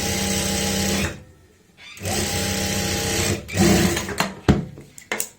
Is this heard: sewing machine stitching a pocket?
yes